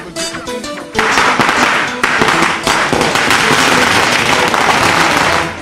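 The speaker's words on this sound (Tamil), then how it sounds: "இருப்பினும் கொரோனா கட்டுப்பாடுகள் காரணமாக பட்டாசு வெடிப்பதில் உற்சாகம் குறைவாகவே காணப்பட்டது." Diwali firecrackers going off in a dense, sustained crackle, loud and near, starting after a brief quieter moment with music-like tones and continuing as a steady barrage of overlapping bursts.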